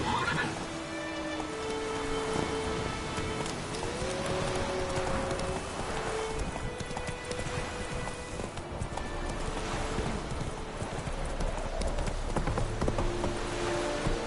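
Roach, the horse in the video game The Witcher 3, gallops with rapid continuous hoofbeats and an occasional whinny over a steady background wash, with no talking.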